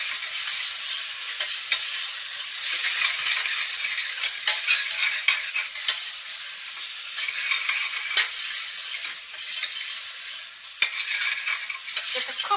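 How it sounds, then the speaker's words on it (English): Turmeric sizzling in a hot pan while being stirred, a steady close crackle with repeated scraping strokes of the spoon throughout, no voices. "Give that a stir."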